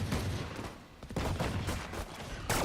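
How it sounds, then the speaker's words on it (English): Gunshots in the video game Valorant crack out in quick repeated bursts, loud and close, with short gaps between volleys and no voices. "And some shots out."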